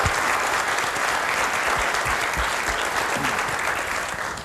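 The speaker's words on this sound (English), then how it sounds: "I think that deserves a round of applause." A room full of people at a 1998 Sharper Image managers meeting and reception claps steadily and fairly loudly, with a dense, even patter of hands that carries through and begins to fade slightly at the end.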